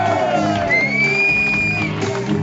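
A live concert audience in Berlin cheers and shouts for the band, a dense, steady roar of many voices with whoops rising above it, close and loud throughout.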